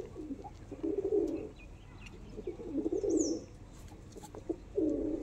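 Kasuri Kalsira pigeons coo in three rolling, throaty phrases separated by short pauses, close and fairly clear, with light chirps and rustling around them and no talking.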